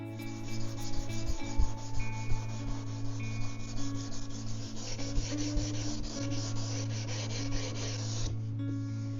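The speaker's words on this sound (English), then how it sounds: "So I will work my way through the grits of sandpaper once again." Sandpaper worked over the wooden neck of a baroque cello, a continuous close rubbing rasp with uneven strokes and a steady hum beneath, alone without talk.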